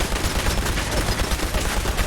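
Automated turrets firing in Fallout 4, a dense, loud, fast stream of overlapping gunshots with a rapid, rattling rhythm and no talking.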